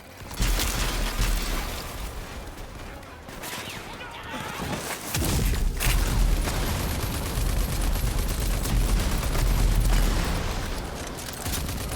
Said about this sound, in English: That's a lot of grenades.